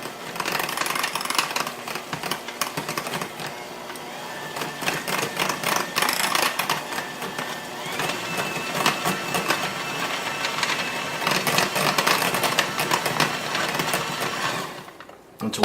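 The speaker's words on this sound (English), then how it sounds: "what I want to do here is I just want to start mashing these up" Baked potatoes being mashed and whipped up in a bowl, a continuous close scraping and clattering rhythm of a masher or mixer working the potato, steady throughout with no talking.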